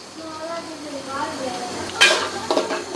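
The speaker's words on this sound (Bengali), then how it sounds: "এটা সুন্দরভাবে আমরা ব্রেস্তা করে নেব পেঁয়াজটা" Chopped onions frying in about one and a half cups of soybean oil in a wok, a steady sizzle with stirring and a louder clatter of utensil against the pan near the end, under a voice talking.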